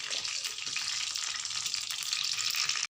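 Small pieces of tapioca pearl pakoda fry in hot oil, giving a dense, continuous crackling sizzle up close that cuts off abruptly just before the end.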